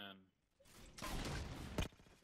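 Enemy gunfire in Halo 4, a loud run of rapid shots that builds after a brief quiet spell and ends in one sharp burst, with a voice heard just before it.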